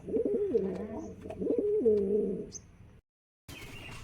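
A pigeon in a loft coos twice nearby, each a low throaty warble, followed by a moment of silence and a brief burst of noise.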